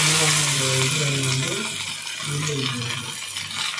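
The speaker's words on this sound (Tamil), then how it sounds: "இப்போ ஒவ்வொரு பீஸாக எடுத்து போடுங்க எண்ணெயில்." Pieces of taro root (seppankizhangu) frying in hot oil on a tawa give a continuous bubbling sizzle that runs beneath a tonal, music-like background throughout.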